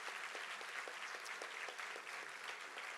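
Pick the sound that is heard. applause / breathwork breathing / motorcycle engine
applause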